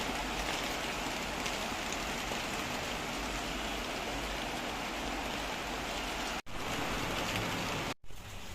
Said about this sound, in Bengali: বাইরে কিন্তু প্রচুর বৃষ্টি,